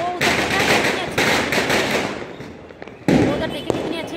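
Diwali firecrackers and fireworks crackle and pop in dense, continuous bursts on a festive night, with a sharp loud blast near the end and voices faintly audible underneath.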